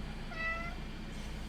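A domestic cat gives a single short, faint meow against a steady low indoor hum, with no voices.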